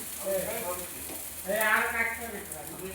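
Mashed taro paste stirred and scraped in a hot pan, soft sizzling and scraping under a woman's speech, steady and fairly quiet.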